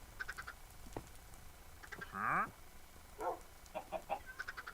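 Video game chickens cluck and squawk in short bursts with a few louder drawn-out calls, heard faintly in a Minecraft-style farm setting.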